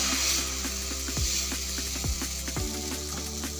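Wheat flour amboli batter hits an oiled pan and sizzles steadily, a close, continuous frying hiss with a few faint clicks and no voices.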